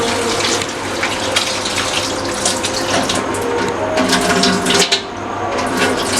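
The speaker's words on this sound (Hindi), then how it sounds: "अच्छे से वॉश कर लेना चाहिए वेजिटेबल्स को, 2-3 पानी जो है वो वॉश कर लेना चाहिए।" Kitchen tap water runs steadily into a sink as vegetables are rinsed, a loud continuous splashing stream with no talking, nearby and even throughout.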